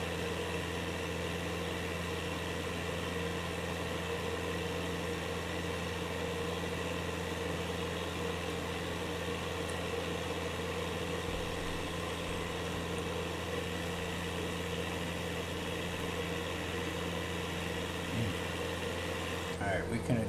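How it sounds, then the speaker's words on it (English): Aircraft engine droning steadily under load in Microsoft Flight Simulator, a constant loud hum with strong low tones held throughout, with a change near the very end. "We're putting a little bit of stress on the engine."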